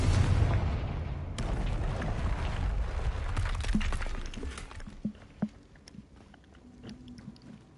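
A Confringo blasting spell explodes in a Harry Potter video game, opening with a loud, deep boom that rumbles and slowly fades, followed by scattered smaller thuds and crackles.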